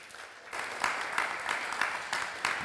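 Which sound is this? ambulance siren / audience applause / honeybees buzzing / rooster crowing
audience applause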